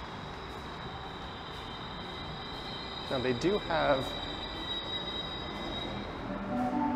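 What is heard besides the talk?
commuter train arriving at station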